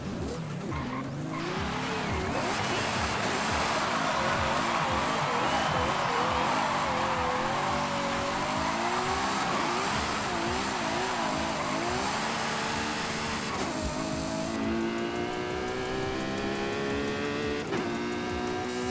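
A Ferrari J50 sports car engine in Forza Horizon 5 roars and revs continuously, with tires squealing and skidding throughout, loud and close, ending in a high steady whine.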